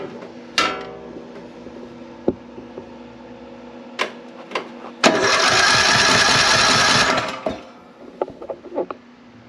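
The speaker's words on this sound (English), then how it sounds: "let's see what happens when I turn the key" Craftsman LT3000 riding mower engine cranking on the key for a few seconds, a loud steady starter whir that does not fire, between scattered clicks and knocks of nearby handling.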